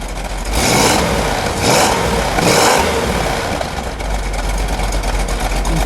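A 1971 Plymouth Cuda convertible's 383 V8 rumbles close by, rising in three throaty revs over a steady idle, then settling back to a loud, even idle.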